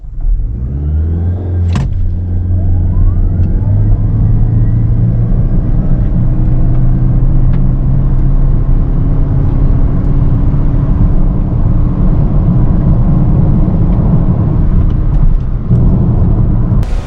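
A Suzuki Swace Hybrid accelerating hard at full throttle in Sport mode, a steady loud engine drone and road rumble that rises in pitch and holds for the whole stretch, with no talk.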